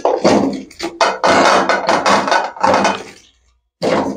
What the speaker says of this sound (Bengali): জল ঝরানো সব কপিগুলো দিয়ে দিলাম কড়াইতে।